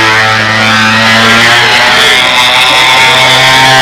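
The engine of a rebuilt SeaFire model airplane drones loudly and continuously in flight, a steady, buzzing, harmonic whine close to the microphone.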